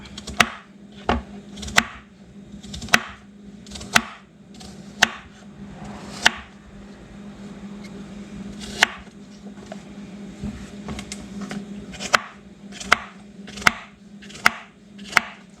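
A knife chops zucchini into chunks on a cutting board, with about fifteen sharp, close thuds in an uneven rhythm, some quick pairs and some longer gaps, over faint room noise and no talking.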